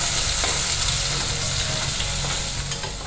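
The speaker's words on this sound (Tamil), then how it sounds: "மஞ்சப்பொடி, கொஞ்சம் வெங்காயம் வதங்கட்டும்." A medium onion sautés with turmeric powder in a pan, giving a loud, steady sizzle and crackle with soft stirring scrapes throughout, and no voices.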